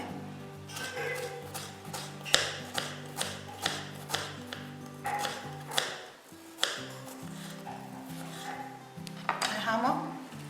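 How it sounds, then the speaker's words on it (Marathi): Knife thinly slicing a red onion on a board, a steady series of crisp regular cuts with light clinks, close and clear. "एकदम पातळ कट करून घ्यायचं आहे मी हा लाल कांदा घेतला"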